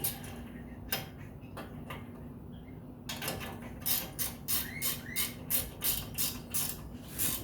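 A ratchet wrench tightens a bolt on a car's upper control arm during coil spring work: a few separate clicks at first, then a steady run of rhythmic ratcheting ticks, close and clear.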